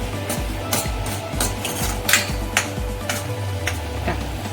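Masala spices frying in oil in a pot for mutton rassa curry, a steady close sizzle with occasional stirring clinks and scrapes, no talking.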